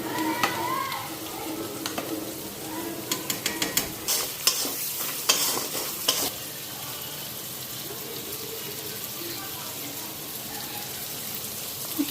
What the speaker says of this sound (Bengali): এদিকে মশলাটাও ফ্রাই করে নিতেছি